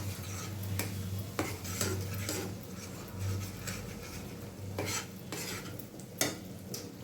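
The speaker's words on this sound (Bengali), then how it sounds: "আমি একটু জল দিয়ে দিচ্ছি নাহলে মশলাটা যদি পুড়ে যায় সেই জন্য জল দিয়ে দিয়ে কষে নেব" Spice paste for a fish and vegetable curry cooking in a pan with a little water added, a low steady simmering hiss broken by repeated sharp scrapes and clinks of a spoon stirring against the metal.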